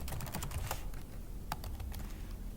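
Rapid keystrokes on a computer keyboard during Linux terminal work in Ubuntu, a quick irregular patter of close clicks with a couple of louder taps, no voices.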